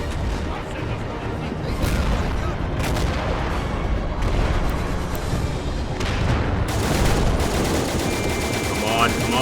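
Dense battlefield gunfire in a 1930s Chaco War video game scenario, with steady rifle and machine-gun crackle and heavier anti-tank gun blasts underneath, continuous and loud, while someone talks over it.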